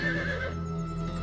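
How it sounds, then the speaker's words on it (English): A horse neighs outdoors in a single loud whinny lasting about a second, with rising and falling pitch over steady background noise. "there's a horse. What the hell? I wasn't expecting a horse."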